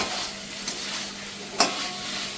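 Spices and boiled potatoes fry in a pan for a pointed gourd and potato curry, giving a steady soft sizzle with a couple of sharp spoon clicks against the pan.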